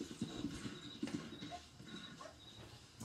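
Horse hooves clip-clop steadily in the Red Dead Online video game, a quick, soft, even patter of footfalls heard faintly with no talking over it.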